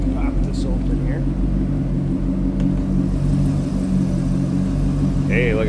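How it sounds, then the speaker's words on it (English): A 2010 Chevrolet Corvette coupe's LS3 V8 idles with a low, steady rumble close by, holding an even drone throughout while someone speaks over it. "Little rumble coming out of that LS3"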